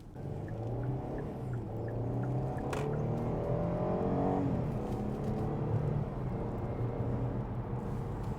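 A 2017 Genesis G80 with a naturally aspirated 3.8-litre V6 and AWD hums steadily from inside the cabin, the engine tone rising smoothly and then settling as it drives, with no talking.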